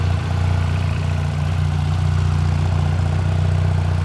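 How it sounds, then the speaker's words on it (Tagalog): A 1300 motorcycle with full exhaust and headers idles in a steady, deep, low rumble that holds even and unbroken throughout, close and fairly loud with no talking. "yung ingay ng 1300 na naka-full exhaust versus doon sa hindi Headers"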